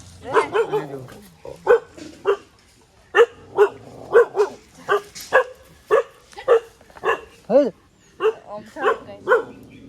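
A dog barks repeatedly nearby in a quick, uneven series of sharp woofs, with a few higher yelps mixed in.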